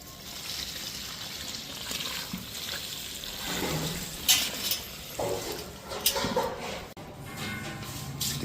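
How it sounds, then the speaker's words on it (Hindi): Water poured into a pot of cooking mixture with silk already added, for preparing khameera, giving soft trickling and splashing with light clinks of pots and utensils, moderately close, with no talk. "और अब देखिए इसमें हम डाल रहे हैं पानी।"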